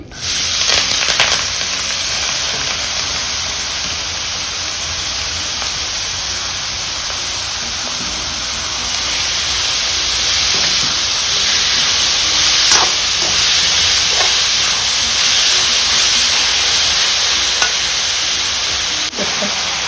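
Onions, green chillies, curry leaves and drumsticks frying in oil with mustard seeds, a loud, steady sizzle and hiss that continues unbroken throughout, close up, with occasional stirring.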